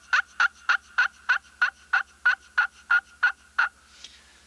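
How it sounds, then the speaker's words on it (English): A slate turkey call, scraped hard with a striker for maximum volume, gives out a steady series of about twelve loud, evenly spaced yelps close up, ending in a faint trailing note. "bear down on that striker and get a lot of volume with it"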